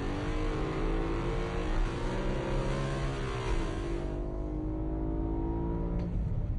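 A BMW M3 or Mercedes C 63 AMG sports car engine holds a steady high-rpm roar near the listener, its pitch climbing slightly before easing off, with no talk.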